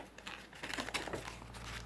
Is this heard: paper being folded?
yes